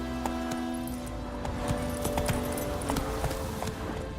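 Roach, Geralt's horse in The Witcher 3, trots along in a steady clip-clop of hoofbeats, moderately close, with faint clinking tack over a quiet ambient game hum.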